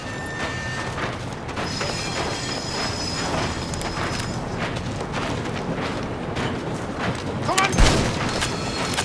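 A moving train rumbles and clatters steadily in the Medal of Honor VR game, with metallic squeals and a louder thump near the end, while a voice speaks over it.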